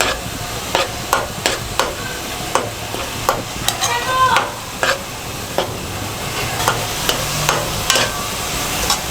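Drumstick pieces frying in a coconut curry gravy in a pan, a steady sizzle broken by repeated sharp scrapes and knocks of a spoon stirring against the metal, close and alone with no voices.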